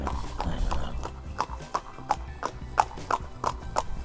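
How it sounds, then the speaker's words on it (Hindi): A Sindhi horse walks at a steady pace, its hooves striking in a clear, regular clip-clop of about ten distinct beats over low background rumble, with no voices. "ये देख सकते हो इसकी पैरों की चाल"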